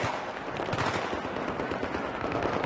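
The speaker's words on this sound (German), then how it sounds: "Ich werd ein bisschen beschossen" Rapid automatic gunfire crackles continuously in Battlefield 3, dense overlapping shots at close to mid range that hold an even loudness throughout.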